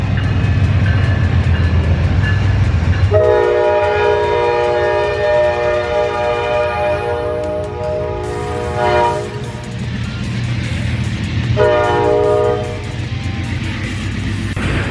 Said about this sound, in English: So this actually happens to be the Superliner, which is a special type of train that you can put your cars in, go on vacation